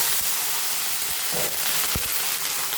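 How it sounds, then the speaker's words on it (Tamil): Sliced ridge gourd sautés in a pan with dal and curry leaves, giving a dense, steady hiss marked by a few soft stirring thumps. "போட்டு வதக்கிக்கலாம் இப்போ நல்லா வதக்கியாச்சு"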